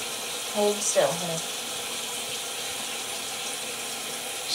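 Shower water runs steadily during a rinse, a constant close hiss of spray throughout, while a person briefly speaks over it.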